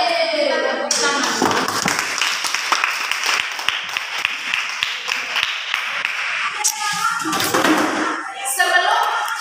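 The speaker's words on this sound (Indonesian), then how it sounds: "Kita tepuk tangan." A school class claps their hands in a long, busy round of applause, near and fairly loud, with children's voices mixed in.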